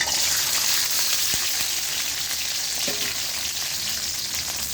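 Pirandai (veldt grape) sautés in hot oil in a kadai, producing a loud, dense, continuous sizzle with a few faint utensil knocks underneath.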